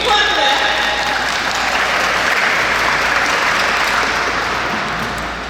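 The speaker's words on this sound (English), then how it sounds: "Now, you can clap for that." Graduation guests at an 8th grade ceremony clap in a full, sustained burst of applause that stays loud for several seconds before tapering off slightly at the end.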